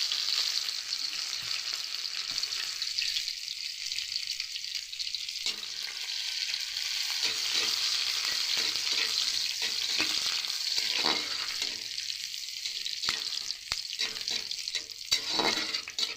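Chopped onions with panch phoron and chillies frying in oil for bottle gourd greens, a bright continuous sizzle that swells and eases as the pan is stirred, close and steady without speech.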